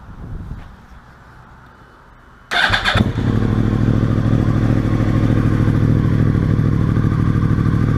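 A quiet rustling lead-in, then a 2014 Yamaha R1 motorcycle engine fitted with a Power Commander PC5 cranks and fires up loudly, settling into a strong, steady rumbling idle close by.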